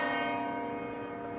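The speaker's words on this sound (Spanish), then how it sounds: "Durante 2 minutos las campanas de las iglesias de Madrid" Church bells at Madrid's Almudena Cathedral toll in tribute to the victims, a sustained, ringing bell tone with rich lingering overtones heard clearly on its own.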